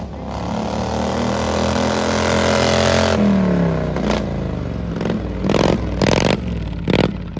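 An antique tractor engine roars and revs at a timed tractor show run, its pitch rising then dropping, followed by choppy bursts of throttle and clattering, loud and close.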